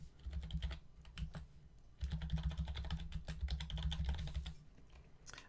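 Fingers type billing details on a computer keyboard in quick, irregular bursts of close clicks, with a short pause between flurries and no voices.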